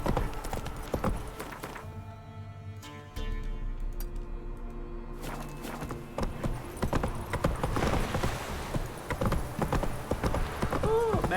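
Roach the horse gallops in The Witcher 3, with rapid clip-clop hoofbeats that drop out briefly partway through and then resume, ending in a busy, close flurry of hooves.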